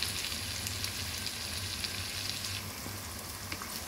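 Okra is added to a pan of tomatoes and green chillies for a potato and okra sabzi and fries with a soft, steady sizzle and faint crackling pops throughout.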